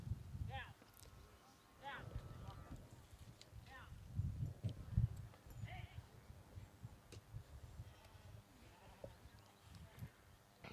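Yearling ewes bleat at a sheepdog trial, several short faint bleats spaced across a quiet field backdrop, with distant hoof thuds and occasional voices.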